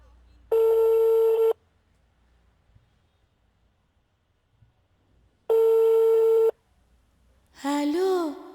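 Two long, steady telephone busy-signal tones sound about five seconds apart, each lasting roughly a second, with quiet between them. A short warbling electronic tone follows at the end.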